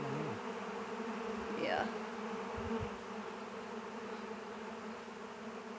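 Honeybee swarm clustered on tree branches, a dense steady buzz of many wings close by, with one bee zipping past and a single short spoken word over it.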